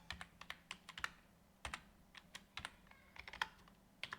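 A name typed on a computer keyboard, a run of crisp, quiet key clicks in uneven bursts with short pauses, close to the microphone and alone.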